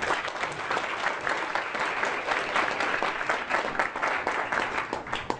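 Audience at a talk giving sustained, even applause, dense and fairly close, with no speech over it.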